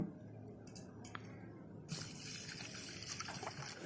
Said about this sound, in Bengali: এই চালগুলো একটুখানি আমি জলে একবার ধুয়ে দশ মিনিটের জন্য ভিজিয়ে রেখে দেব